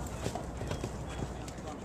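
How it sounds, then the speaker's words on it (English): Derby racehorses clip-clop on the dirt track at Churchill Downs in Louisville, Kentucky, on a spring morning at dawn, the hoofbeats soft and uneven over steady outdoor background noise. "Here come the Derby horses."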